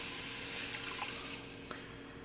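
A steady close liquid pour into a cooking pot, 3/4 cup of milk going in over seasoned homemade hamburger helper ingredients, a continuous rushing trickle for about two seconds with no talk.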